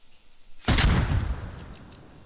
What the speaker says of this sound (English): One RPG shot